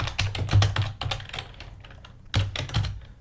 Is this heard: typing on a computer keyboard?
yes